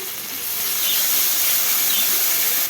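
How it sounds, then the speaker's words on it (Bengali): Chopped onion hits hot tempered oil in a pan for a red amaranth greens and prawn dish, giving a loud, continuous bright sizzle that swells and holds without voices. "দিয়ে দিচ্ছি কুচিয়ে রাখা পেঁয়াজ, দিয়ে দিচ্ছি পরিমাণ মতো নুন।"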